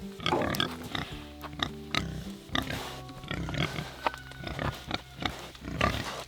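Pigs, including a boar, grunting and snorting on a homestead, a close, busy series of short irregular grunts and oinks overlapping one another, with some clanking in the background.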